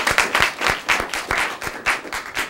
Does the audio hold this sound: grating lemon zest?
no